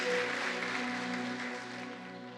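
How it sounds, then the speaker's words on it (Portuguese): Applause from a church congregation during a Sunday service at Chama Church, a steady wash of clapping that gradually fades over a couple of seconds, with a sustained tonal hum of music beneath it. "Dê um aplauso bem forte ao Senhor dos Exércitos."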